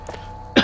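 A single short, throaty cough bursts out near the end, close and loud after a quiet stretch, from a German-speaking gamer during a BioShock Infinite playthrough.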